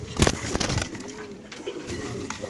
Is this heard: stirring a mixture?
no